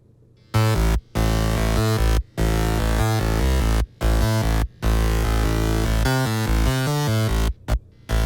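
A thick, buzzy synth bass plays loud, sustained notes in a choppy rhythm, its layered voices slightly out of tune for a wide, chorused sound, with short gaps between.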